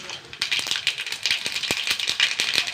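Mustard seeds hit a hot pan and pop in quick, sharp, irregular crackles, loud and close, with no talking.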